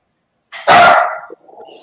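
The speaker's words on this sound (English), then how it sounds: "I think that dog's going to be a little bit of an issue" A dog gives a single loud, close bark, followed by a quieter, fainter yelp or whine trailing off; no one speaks.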